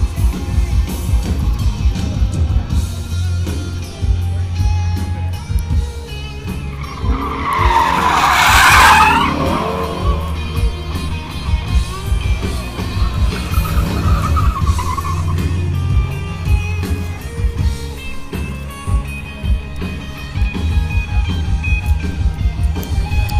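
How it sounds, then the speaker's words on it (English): Car tires screech loudly in a long drifting squeal over a steady engine roar, fading and returning as cars drift around the track at the SEMA 2016 show. "take a ride around the track and drift live"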